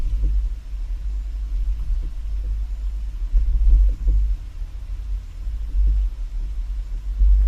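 A 2018 Kia carrying a Swagman XTC2 tilt bike rack for two bikes rolls slowly over speed bumps, a deep continuous road rumble swelling into a few heavier low thumps as the car rises and drops, with no talking.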